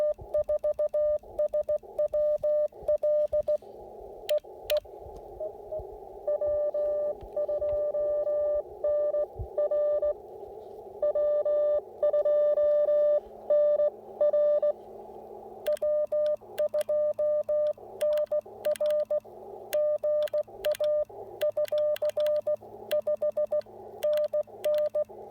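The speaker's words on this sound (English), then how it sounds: "It's a little down in the noise, but it's a lot easier to hear CW when it's a little weaker." Morse code CW received on an Icom IC-705 radio during a park activation with a vertical antenna, heard as bursts of a keyed steady beeping tone over faint background hiss that run for most of the stretch.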